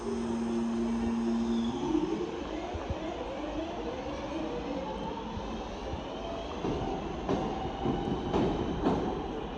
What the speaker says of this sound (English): This train is now ready to depart.